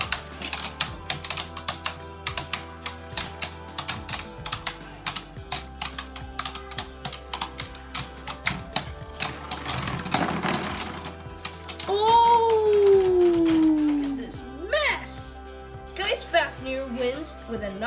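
Beyblade Burst spinning tops clashing in a Slingshock stadium, a fast rattle of sharp metallic and plastic clicks and impacts, then a longer whirring grind, with people talking and shouting over the battle.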